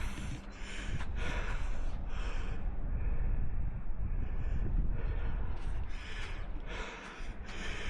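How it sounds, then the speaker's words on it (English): Heavy, close breathing on a ferry trip, loud and continuous with gusty exhales and rough airy texture, no talking. "that's my breathing you hear"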